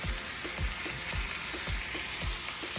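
Chicken pieces for Belizean stew chicken browning in a hot pan give a steady, loud sizzle and crackle, broken by regular low thumps from stirring or turning, with no talking.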